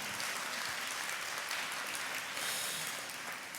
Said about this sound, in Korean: 여러분 박수 한번.